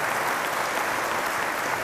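Congregation applauding an anniversary couple, a dense, even wash of clapping filling the whole short moment without pause or voices.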